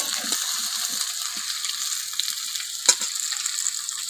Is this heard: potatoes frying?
yes